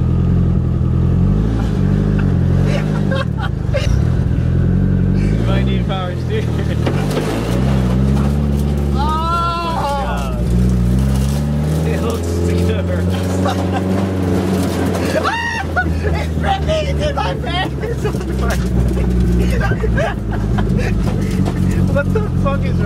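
A car engine idling and revving after being started and put into first gear, a steady loud rumble throughout with people talking and shouting over it.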